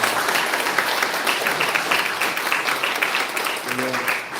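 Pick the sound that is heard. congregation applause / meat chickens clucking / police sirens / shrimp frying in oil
congregation applause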